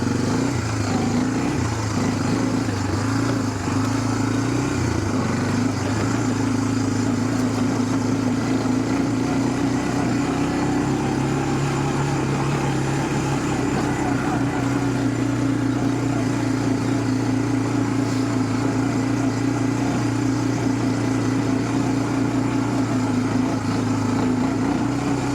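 A Honda Fourtrax 300 ATV engine runs steadily on a test drive, a loud, continuous mid-pitched drone with a slight shift in pitch partway through, no talking over it.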